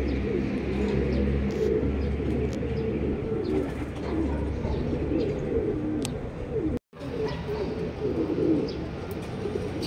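Racing pigeons landing at a club training session in Luisiana, Laguna, with soft repeated cooing over a steady outdoor background, occasional chirps and a brief dropout partway through.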